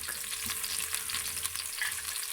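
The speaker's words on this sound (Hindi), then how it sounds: "इसमें साथ ही डाल देते हैं हरी मिर्च ताकि वो भी थोड़ी सी फ्राई हो जाए, और नमक।" Green chilies and salt fry in hot oil with a dense, crackling sizzle, close and continuous, broken by light scraping stirs and a few sharper pops; no one speaks.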